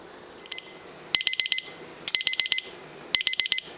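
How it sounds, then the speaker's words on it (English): A temperature probe alarm sounds while water heats toward a boil for homebrewing, giving three loud bursts of rapid electronic beeps, about five beeps each, spaced roughly a second apart. "And the alarm's going off at 195 degrees."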